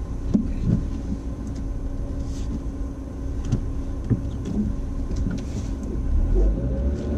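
A learner driver's own car reverses and then pulls out during a driving test, a low, steady engine rumble with a few soft knocks and thumps and a slight swell near the end.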